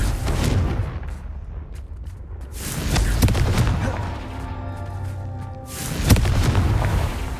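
Blasting booms from the Confringo fire spell in Hogwarts Legacy, with several heavy bursts spread across the stretch and a sustained rumble and crackle between them, loud and close.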